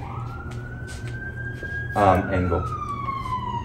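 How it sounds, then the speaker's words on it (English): A passing ambulance siren wails in a long rising then falling tone, moderately loud, while someone speaks briefly nearby. "Sorry about the ambulance"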